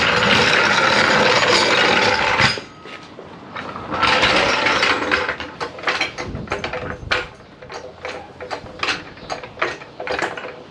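A ratchet spins out the subframe bolts on a car: dense mechanical whirring at first, then a run of quick, evenly spaced clicks, loud and close, with no talking.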